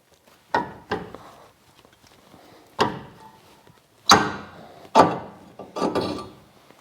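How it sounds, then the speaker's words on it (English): A hammer strikes a Mitsubishi Lancer brake rotor six times at irregular intervals, each a heavy, sharp metallic clang that rings briefly before fading, with quiet pauses between strikes. "This one doesn't come easily, we'll just hit it with a hammer"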